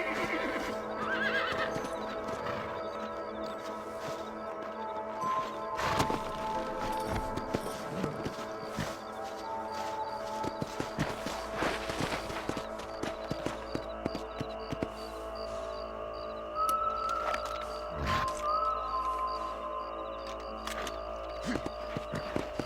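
Horses in the video game Red Dead Redemption whinny and snort amid a steady clatter of hooves, with rustling and shifting tack throughout, loud and close.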